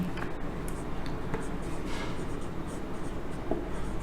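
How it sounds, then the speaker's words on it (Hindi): Pen writing notes on paper during a study lesson, a continuous soft scratching close by with small taps, and no talking over it. "लिखते हैं इसमें नेक्स्ट पॉइंट"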